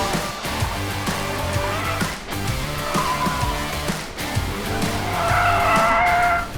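A car drifting on a race track sends out loud, sustained tyre squeal and skidding over a straining engine that rises and falls, heard up close and continuous throughout.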